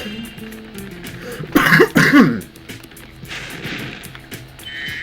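A couple of sharp coughs burst out midway through, close and loud, over a quiet, steady background.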